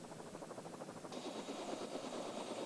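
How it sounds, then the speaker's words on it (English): A helicopter flying overhead while tracking wolves in central Canada, with a steady rhythmic rotor chop and engine drone that grows slightly louder and fuller midway. "Wolves are tracked by helicopter"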